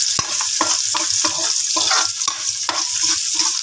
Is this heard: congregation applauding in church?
no